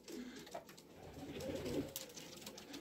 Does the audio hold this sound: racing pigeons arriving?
yes